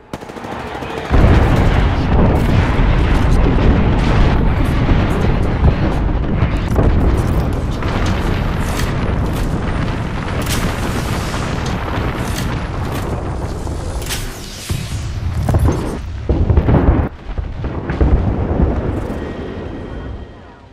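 Airstrike explosions in Apex Legends, a loud sustained barrage of deep booms and rumbling blasts mixed with gunfire, continuing for most of the stretch before thinning toward the end.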